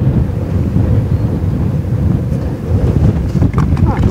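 Strong wind buffets the microphone beside water while fishing for tilapia with a cast net, a dense, steady low roar that never lets up across the whole stretch.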